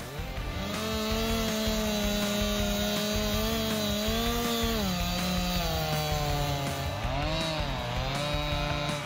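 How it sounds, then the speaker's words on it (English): A chainsaw runs loud and steady through wood, its engine pitch wavering and dipping as the cut loads it, with no break across the whole stretch. "This exceptional chainsaw, renowned for its unparalleled speed and potency, revolutionizes the logging industry"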